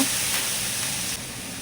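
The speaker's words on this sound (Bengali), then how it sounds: "এবার আমি কড়াইয়ের মধ্যে তেল দিয়ে আমি চিংড়ি মাছগুলি ভেজে নেব" Shrimp frying in oil in a wok gives a broad, steady hiss and sizzle, close and even, dropping slightly in level toward the end.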